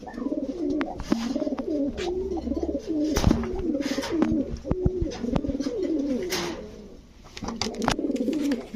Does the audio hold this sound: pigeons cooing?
yes